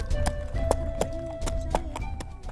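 Horse hooves clip-clopping in a steady, distinct rhythm in a village on Sumba, where horses serve as main transport, the hoofbeats close and clear over a low continuous background.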